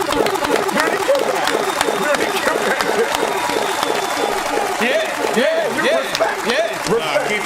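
Audience applause and cheering at a freestyle rap performance, a steady wash of clapping running the whole time beneath loud voices talking over it.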